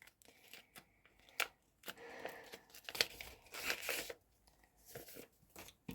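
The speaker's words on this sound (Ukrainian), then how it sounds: "Вау, дуже добре спрацювала перфорація та відкрила нам, звісно, такий пакетик." Close, crisp tearing and crinkling of paper in short bursts, with a few sharp rips between quieter rustles.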